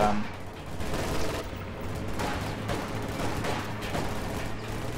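Soviet conscripts fire PPSh submachine guns in a real-time strategy game, with dense, continuous bursts of rapid automatic gunfire and overlapping battle noise at moderate volume.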